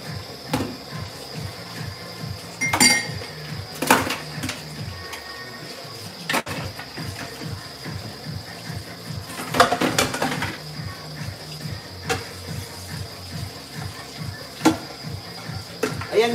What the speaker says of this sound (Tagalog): naghuhugas tayo ng plato dito sa kitchen namin